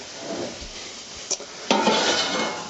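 A metal baking sheet is pulled out in a home kitchen while cooking flourless peanut butter cookies, giving a brief clank and then a bright metallic rattle and scrape. It is fairly close and heard alone, with no talk.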